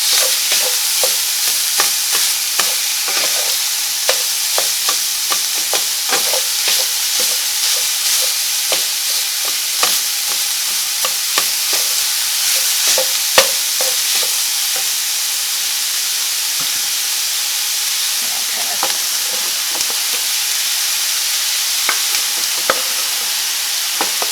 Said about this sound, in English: I think we'll go ahead and add in the andouille sausage at this point